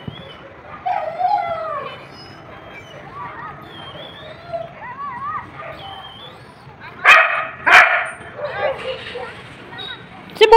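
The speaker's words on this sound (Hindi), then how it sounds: "तो वो बहुत भौंकने लगा, ऊपर आने के लिए बहुत हो रहा था" A dog barks and yelps a few times, loud and close, with short sharp bursts near the end, amid other household noise.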